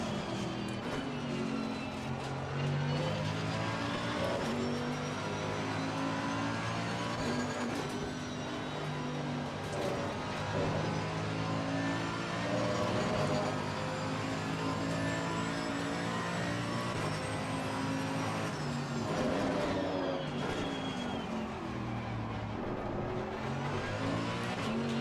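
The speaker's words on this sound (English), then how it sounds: "Such a glorious engine." A V12 Aston Martin GT3 race car engine drones loudly and steadily throughout, its pitch rising and falling in long sweeps as it revs, with no breaks in the continuous roar.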